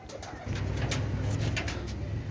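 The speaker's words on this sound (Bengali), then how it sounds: "পাকিস্তানি নীলা কামাগার কবুতর" Pakistani Nila Kamagar pigeons cooing close by, a continuous low throaty warble with overlapping soft coos and faint higher chirps.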